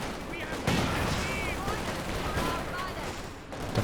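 A Vickers machine gun and a support gun firing in the World War II strategy game Company of Heroes 2, a steady crackle of distant automatic fire with a commentator talking over it.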